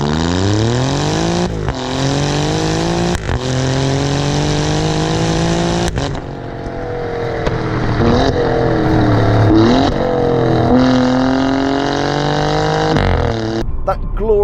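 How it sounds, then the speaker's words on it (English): Alfa Romeo Giulia Quadrifoglio V6 engine accelerating hard through several gears, loud rising revs with brief dips at each shift, close and continuous. "Glorious V6 soundtrack builds and builds"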